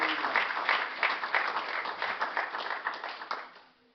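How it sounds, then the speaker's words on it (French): A church congregation applauds during a sermon, a dense burst of clapping from many hands at moderate volume that holds steady for several seconds and then fades out. "remercions le Seigneur par un applaudissement"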